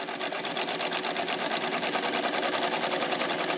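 A sewing machine stitches a seam on a baby blanket, including a backstitch, running as a fast, even mechanical whir with a steady needle rhythm, close and continuous throughout.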